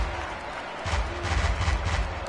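In the baseball video game MLB The Show 18, a stadium crowd of over 39,000 during an NLCS playoff game, Milwaukee at Arizona, rises into a swelling roar of cheering and applause after a brief quieter moment.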